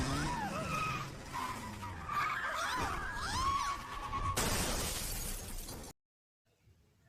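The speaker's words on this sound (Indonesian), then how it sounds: "Dan terjadilah kecelakaan." A car crash in an Indian film: tyres squeal in rising and falling skids, then a burst of shattering glass and breaking metal, loud and close, before everything cuts to near silence.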